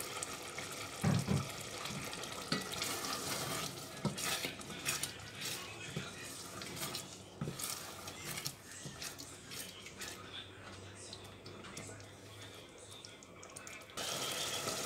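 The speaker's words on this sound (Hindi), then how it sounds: "अब हम डालेंगे इसमें चने और इनको भूनेंगे" Chickpeas roast in ghee and masala in a pan with intermittent scraping and clinking of a spoon against metal, close and fairly quiet, with a faint sizzle underneath and no voices.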